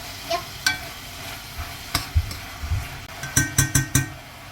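Seaweed being stir-fried in a pot for seaweed soup, with a soft sizzle broken by sharp scraping and clinking strokes of a utensil against the pot, coming in quick bursts near the end, with no voices.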